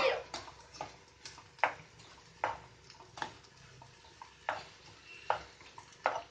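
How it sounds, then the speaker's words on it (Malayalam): Chopped tomatoes stirred in a frying pan for curry, a soft low sizzle punctuated by repeated scraping and clacking strokes of the spoon at an irregular pace, fairly quiet. "തക്കാളി ഇട്ട് നമുക്ക് നന്നായിട്ട് ഇളക്കി കൊടുക്കാം."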